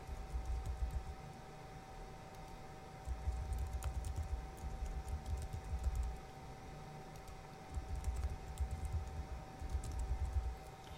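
Someone types answers on a computer keyboard for an online quiz, producing faint, scattered key clicks. Soft, low bursts of room noise come and go under the clicks.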